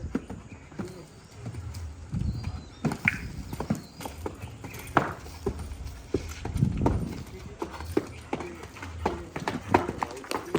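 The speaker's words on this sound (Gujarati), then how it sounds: "તમે જોઈ રહ્યા છો બીજો ઘોડો ખોલ્યો" A horse's hooves clip-clop in an uneven, repeated pattern close by, with a second horse just untied. People talk over and between the hoofbeats.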